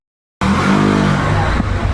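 A Honda Click v3 scooter with a modified CVT and mixed 11 and 13 gram flyball setup pulls away on a test ride, its engine kicking in abruptly and droning loud and close with rising pitch.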